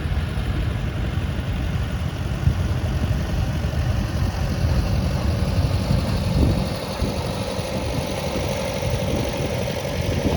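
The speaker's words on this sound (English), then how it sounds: "International 782 garden tractor, owned by Perry Millard of Dorset, Ohio, operated by Mamie Millard" An International 782 garden tractor runs in a steam and gas engine society tractor parade, its engine rumbling steadily at a low idle close by with a continuous vibrating drone.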